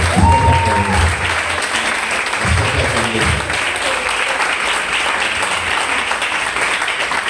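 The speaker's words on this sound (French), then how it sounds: "Est-ce qu'on peut acclamer le Seigneur?" Church congregation applauding to acclaim the Lord, sustained dense clapping from a crowd that continues steadily throughout, with a brief voice at the start.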